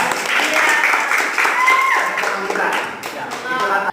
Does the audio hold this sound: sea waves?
no